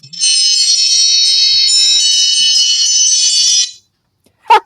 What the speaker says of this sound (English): That was another alarm.